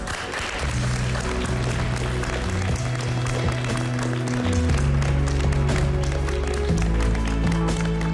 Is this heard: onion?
no